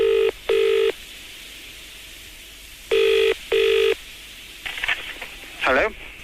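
A telephone rings in two double bursts, each pair of bright electronic trills cut by short gaps, followed by a trailing warble. No one speaks.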